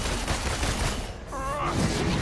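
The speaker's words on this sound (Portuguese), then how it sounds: "Ele bloqueou os tiros." Rapid gunfire in an Avengers video game beta, a dense, loud volley of overlapping shots with a brief ringing tone near the end.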